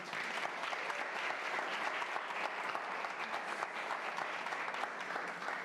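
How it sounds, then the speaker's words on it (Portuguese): Crowd applause for the show Simplemente Antonieta, a steady, even wash of many hands clapping at moderate loudness throughout. "Aplauso para ela."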